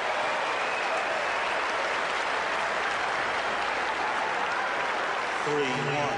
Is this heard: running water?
no